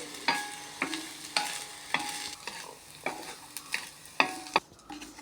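Grated coconut being stirred and roasted in a pan, a spatula scraping the pan in about a dozen sharp strokes over a faint background sizzle, close and clear.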